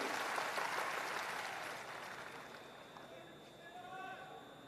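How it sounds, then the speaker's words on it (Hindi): Loud crowd applause fills a Patna auditorium during a political gathering, dense clapping strongest at the start and gradually thinning and fading into quieter room noise. "एक बार जोरदार ताली बजाकर इनका अभिवादन तो कीजिए।"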